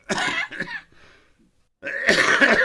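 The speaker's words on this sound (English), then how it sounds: "Get the cough out of the way first." A person coughs a few times in short bursts, close up over an online call, then clears the throat after a brief pause of near silence.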